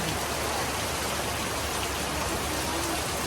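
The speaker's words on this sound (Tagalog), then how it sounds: "masama po ngayon ang panahon at ano, umuulan-ulan nga po" Steady rain pours down in a dense, even hiss with no breaks, close and moderately loud, during bad weather.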